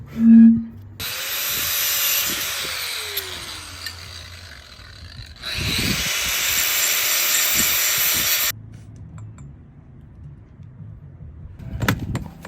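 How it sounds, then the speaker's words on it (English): Power drill boring a hole for a stanchion on a solar arch build, with bursts of whirring high-pitched grinding separated by pauses, close and fairly loud. "So I am drilling a hole, and the stanchion will extend down through that hole"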